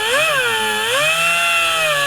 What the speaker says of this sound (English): we're using the air drill because it was the only thing